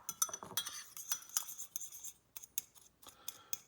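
A spoon scraping and clinking against a bowl while a brown sugar and fresh ground pepper rub is mixed, quiet and close, in uneven bursts of light metallic taps and scrapes with brief pauses.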